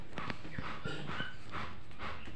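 A lively, playful dog gives a few short, close barks and whimpering yelps over a steady background hum.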